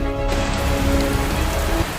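Rain falls steadily and densely, a constant close patter that continues without a break or any voices.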